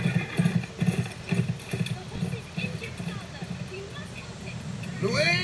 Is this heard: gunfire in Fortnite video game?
no